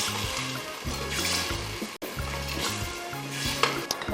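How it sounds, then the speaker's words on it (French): Sauce feuille simmers in a pot with a steady, soft bubbling hiss, faint and continuous, backed by a low tonal hum and a brief dropout midway. "Voilà, qui est en train De bien mijoter."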